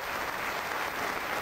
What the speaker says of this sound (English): Applause from the crowd for the birthday boy